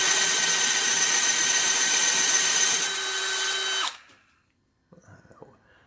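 A Freud Austrian-made 1 3/4 inch Forstner bit drills into wood, a loud steady whine that runs nearly four seconds, eases slightly, then cuts off abruptly, followed by a few faint clatters.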